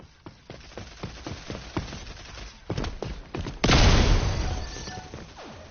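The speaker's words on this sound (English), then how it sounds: "The shotguns in this game are so half-assed." Shotgun blasts and gunfire in the video game Rogue Company land as a series of sharp thumping reports, followed by a loud, sustained crash of noise toward the end.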